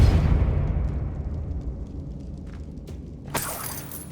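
A Depulso spell in Hogwarts Legacy: a deep rumbling whoosh fades out, then a sharp crash of something breaking free comes near the end.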